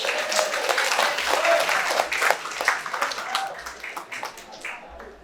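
Classroom audience at a motivational talk clapping for students returning to their seats, a lively, uneven round of hand claps with distinct individual smacks that swells and then tapers off.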